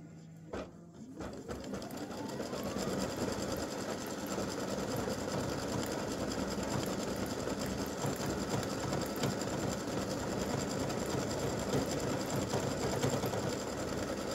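An embroidery machine stitches free-standing lace breast-cancer awareness ribbon earrings, working on the green part of the ribbon. It starts up quickly, then whirs and clatters in a steady, rapid, close rhythm throughout.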